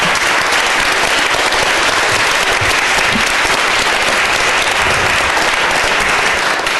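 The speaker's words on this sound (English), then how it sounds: "You can clap." Loud, dense applause fills a board of supervisors meeting chamber after a motion passes, a continuous close wash of many hands clapping at steady intensity throughout.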